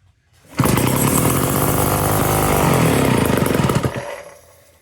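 A restored 1958 Homelite Zip chainsaw engine catches after a short quiet lead-in and runs loud and rough for about three and a half seconds, a buzzing two-stroke roar that fades as it shuts down.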